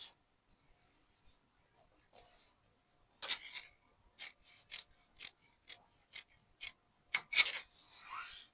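Fabric being cut with scissors for the front piece of a child's bubu, heard as a string of quiet, close snips and crisp blade clicks that come in short regular bursts after a few scattered faint ticks.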